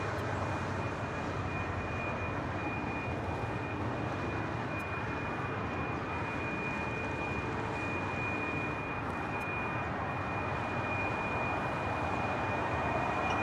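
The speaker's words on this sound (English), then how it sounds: "Oh, listen to those GE90s" Airliners with GE90 jet engines taxi at LAX, giving a distant, steady broadband roar with a constant high whine that holds throughout, fairly faint and with no voices.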